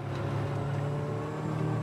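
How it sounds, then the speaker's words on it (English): A Solectrac electric tractor strains under heavy load while mowing, giving a steady, continuous electric motor whine with a low hum throughout, moderately loud and close, with no speech. "I'm pulling the tractor just as hard as I can pull it."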